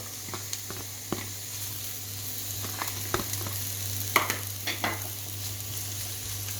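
Onions sizzle and crackle steadily in a hot pan, with occasional sharper pops and scraping clicks over a constant low hum.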